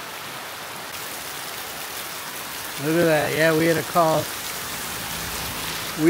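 Heavy rain pours steadily in a dense, hissing wash during the rainy season in the mountains near Chiang Mai, Thailand, with a couple of brief spoken remarks partway through.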